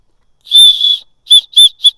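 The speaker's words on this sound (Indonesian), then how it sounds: "sternum strap di bagian dada yang dilengkapi dengan whistle atau peluit" A shrill, piercing backpack sternum-strap safety whistle blown close up: one long blast followed by three short sharp toots.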